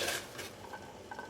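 Vegetable stalks drop into a pot of boiling water, giving a brief soft splash and a clatter against the pot, then a low bubbling hiss.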